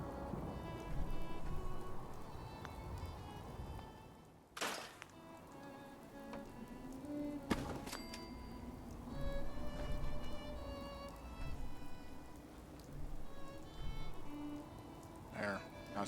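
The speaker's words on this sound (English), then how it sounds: "Of course, it's got to be raining when I'm getting ready to do my building." Steady rain patters on a surface, continuous hiss-like drumming through the whole stretch with a couple of sharp knocks and clatters over it, heard at a farm during building work.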